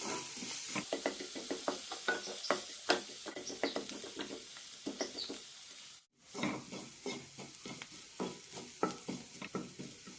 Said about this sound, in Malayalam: നന്നായി മിക്സ് ചെയ്യാം. മസാലകൾ നന്നായി മൂത്ത് കിട്ടണം.